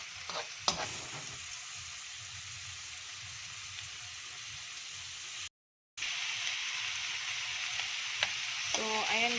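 Half a kilo of chicken feet with onion sizzling and frying in a pan while being stirred, a steady close crackle broken by a brief gap and scraping utensil clinks.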